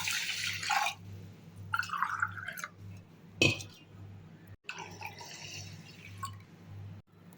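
Water is poured from a glass into washed rice in a pot for cooking rice, two glasses of water per glass of rice, making splashy pouring bursts separated by pauses over a steady low hum.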